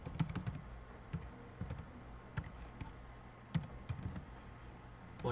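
Fingers type on a computer keyboard in irregular bursts of light clicks, some keystrokes spaced apart and others in quick clusters. The tapping is soft and close against a quiet background.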